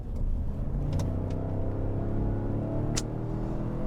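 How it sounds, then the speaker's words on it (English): A Ford Expedition Timberline SUV's EcoBoost V6 revs hard as it accelerates, a loud steady roar with rising engine drone and a couple of brief higher whines. "all of that power translates to pretty strong acceleration, as I will now demonstrate"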